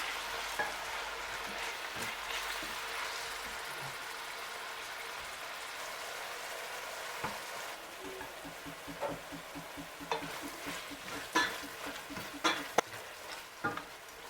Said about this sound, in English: Take time to fry your fresh tomatoes.